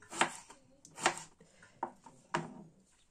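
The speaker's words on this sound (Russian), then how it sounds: "Так, продолжаем нарезать." A knife chops through unpeeled eggplant onto a cutting board, four or five crisp thuds at an uneven pace, close and fairly quiet.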